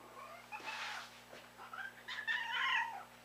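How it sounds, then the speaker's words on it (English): A cat meows nearby, a few drawn-out, rising and falling calls in quick succession in a quiet room. "Yeah, that's my cat for you."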